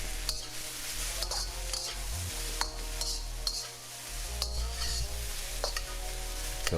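Eggplant sizzling as it stir-fries and browns in a pan, with a steady crackle broken by repeated clinks and scrapes of a utensil against the pan.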